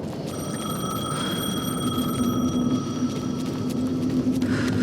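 A telephone rings in the video game Alan Wake 2, a steady electronic ringing tone held over a constant low hum with no talk.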